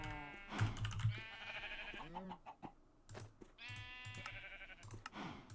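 Sheep in a video game bleat several times in short, nasal bursts, close and clear, mixed with soft keyboard clicks between the calls.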